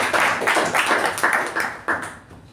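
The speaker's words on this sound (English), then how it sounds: "Can we give a good round of applause for our team?" Scattered hands clap in a round of applause at a Toastmasters club meeting, a moderately quiet room where the individual claps come through as uneven bursts without any talking.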